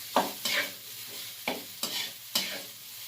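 Sinangag, Filipino garlic fried rice, being stirred in a pan, with about six scraping strokes of a spatula over a soft sizzle, fairly quiet and close.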